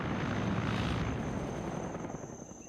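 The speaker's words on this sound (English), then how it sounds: "They hear the other Hueys, excuse me, helicopters." Huey and Mi-24 helicopters fly in a video game, heard as a steady, dense engine and rotor roar. It is loud throughout and eases slightly near the end, with no talking.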